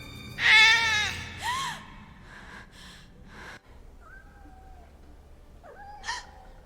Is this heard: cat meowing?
yes